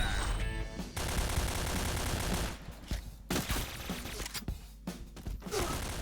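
Gunfire in the online shooter Point Blank: loud sustained automatic bursts that break into shorter, choppier volleys with brief gaps between them.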